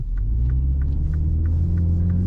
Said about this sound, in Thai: ขออนุญาตเร่งโหมดสปอร์ตนะครับ